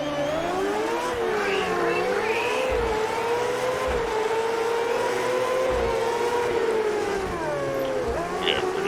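Dirt race car engines in World of Outlaws Dirt Racing 24 on PS5, a field of 20 cars in a B main; loud sustained droning engine tones rising and falling through revs and gear changes, with no talk.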